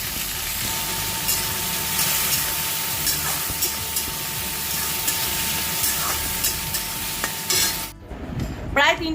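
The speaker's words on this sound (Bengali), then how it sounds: "আমি সবজিগুলো কেটে রেডি করে ফ্রাইড রাইসটা বানাই" Vegetable fried rice is stir-fried in a pan with a continuous loud sizzle and repeated scraping stirs, close by, ending in a brief clatter as the cooking sound cuts off.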